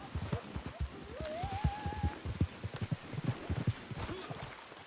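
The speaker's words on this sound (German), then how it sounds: "Und da wird das Pferd ganz schnell." Rapid, regular hoofbeats of a galloping horse in the video game Red Dead Redemption 2 Online, evenly spaced and close, with a brief rising whinny-like tone partway through.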